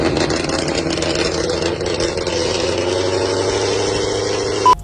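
An LS-swapped third-generation Chevrolet Camaro engine idles steadily at close range, a continuous low rumble with an even tone and no voices over it.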